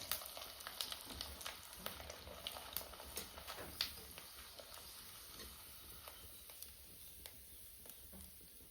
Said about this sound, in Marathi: तेल कडकडीत गरम झाले, पापड तळणार आहे.